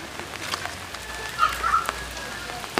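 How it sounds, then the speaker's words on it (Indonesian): Steady rain falls on a surface: a soft, even hiss with scattered drop clicks throughout, and a faint thin whistle-like tone drifting through the middle. No one speaks. "Hujan."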